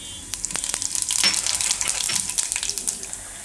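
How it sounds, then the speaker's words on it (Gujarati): Cumin seeds sizzle and crackle in hot oil for Gujarati khandvi curry, a steady close frying hiss with scattered sharp pops throughout. "એમાં જીરું નાખશું પહેલાં."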